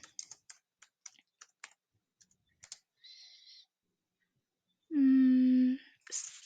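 Typing on a computer keyboard in irregular quick clicks and short bursts of keystrokes, close and clear, with a brief hum and a sustained tonal beep breaking in alongside.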